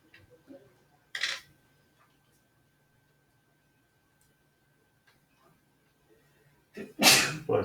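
A person sneezes in a quiet classroom during a geometry lesson: a sharp sneeze near the start, then a louder, fuller sneeze near the end, with faint ticking and small noises in between.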